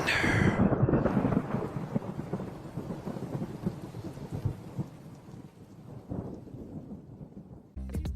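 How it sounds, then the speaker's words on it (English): Loud rolling thunder crashes at the start and rumbles on over steady rain during a storm, with no talking. "There's thunder."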